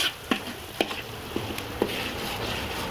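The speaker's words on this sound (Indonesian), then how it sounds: "cabai rawit pedas dan cabai merah keriting yang sudah dihaluskan serta bumbu rempah-rempah lain semua digoreng seperti ini" Ground cabai rawit, curly red chili and spice paste with garlic, ginger and turmeric frying over a wood fire, a steady sizzle broken by several soft stirring scrapes, close and alone.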